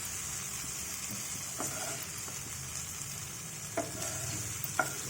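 Ingredients frying in a pan for a green apple pickle, a steady close sizzle with occasional spoon stirs and clinks, no talk.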